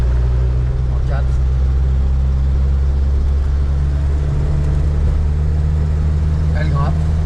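A Renault 4L fitted with an R5 GTL engine climbs uphill in fourth gear at around 50 km/h, a steady low engine drone under gentle throttle with faint voices now and then.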